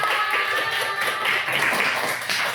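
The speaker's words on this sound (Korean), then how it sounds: "박수 한번 합시다." A church youth gathering breaks into applause, a dense, steady wash of many hands clapping at once that fills the room for a few seconds and then starts to fade.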